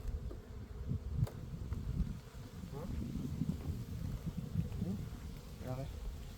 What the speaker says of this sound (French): Il reste une abeille.